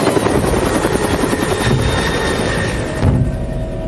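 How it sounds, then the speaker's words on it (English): Helicopters and planes in pursuit veer off, a loud, steady rotor chop and engine roar that hold evenly before fading slightly toward the end. "The pursuing planes and helicopters veer off."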